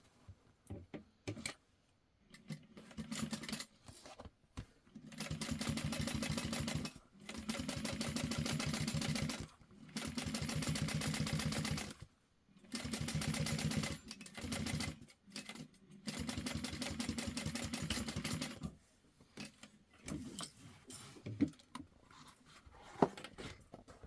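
Sewing machine top stitching a seam on a tote bag, several steady rapid mechanical runs lasting a few seconds each, separated by short pauses and handling clicks, close and moderately loud.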